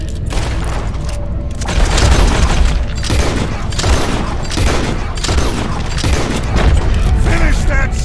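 Loud, dense gunfire from the video game Red Dead Redemption 2 during a swamp fight, with repeated shots and booming blasts over a steady rumble, while people talk throughout.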